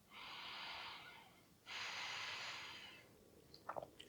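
Slow, deep breathing during a yoga neck exercise for the throat chakra: two long, airy breaths, each lasting over a second, with a short pause between them, followed by a few soft, faint breathy sounds.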